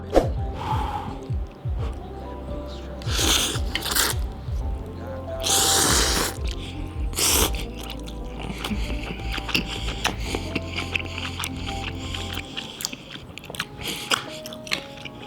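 Eating Korean Jin Ramen noodles with beef, close wet slurping and chewing with loud bursts of slurps, a low background hum underneath.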